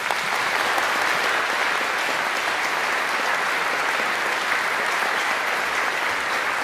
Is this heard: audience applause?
yes